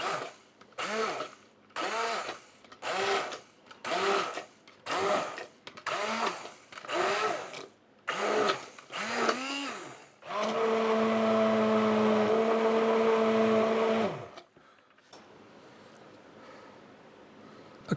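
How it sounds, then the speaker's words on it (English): A stick blender blitzes a cauliflower, cumin and coconut soup, first in about a dozen short whirring pulses, then in one steady, loud four-second run, followed by a quieter background hum. "give the soup a good blitzing with your stick blender"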